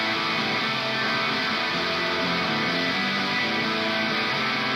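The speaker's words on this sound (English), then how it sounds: "The dirtier rhythm guitars sound like this." Distorted rhythm guitars through Logic Pro's Modern Rock amp simulator, a dense, unbroken wall of driven chords held at constant loudness throughout.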